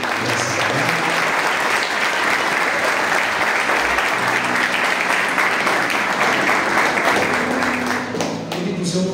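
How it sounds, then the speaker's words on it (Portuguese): A church congregation at an evangelical conference applauds loudly and steadily, a dense wash of clapping that fills the room for several seconds before thinning out near the end. "Você pode aplaudir o Senhor?"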